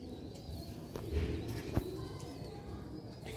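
Sialkoti rooftop pigeons coo softly in low, throaty calls against a noisy background, with a sharper flutter or tap midway.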